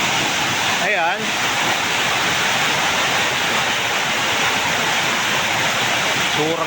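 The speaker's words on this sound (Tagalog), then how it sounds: "Ang lakas ng agos." Strong muddy floodwater rushing in a continuous, loud roar close by, heading toward a waterfall, with a voice speaking briefly over the steady torrent.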